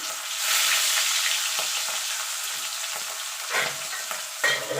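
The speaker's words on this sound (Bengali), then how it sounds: "এবার এইভাবে বাকি মাছগুলো আমি ভেজে নেবো" Pieces of aar fish fry in hot oil, giving a steady sizzling hiss broken by a few louder crackles and spatters. No one speaks.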